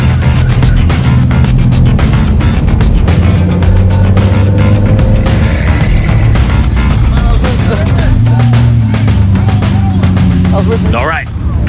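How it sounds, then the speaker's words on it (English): Cars roll into an evening car meet, a steady loud wash of engine rumble and tire noise filling the whole stretch, with a Lamborghini Murcielago among the vehicles nearby. "All right, cars are rolling in now."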